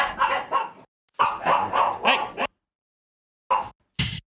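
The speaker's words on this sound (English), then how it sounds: "Dogs fighting." Several dogs bark and snarl in a fight, with rapid overlapping yaps and growls in close bursts, a pause, then two more short sharp barks.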